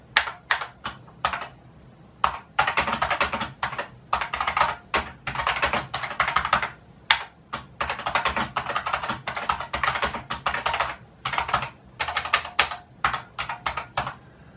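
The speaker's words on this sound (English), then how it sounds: "Did I type that correctly?" Typing on a computer keyboard, with rapid irregular clicks in bursts and short pauses, close and clear with no voices.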